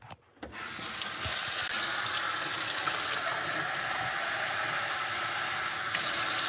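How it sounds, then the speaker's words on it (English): Steady rush of tap water pouring from a kitchen faucet, starting abruptly after a brief quiet moment and then running continuously at an even, close level with no talking. "I hate using tap water for my coffee too"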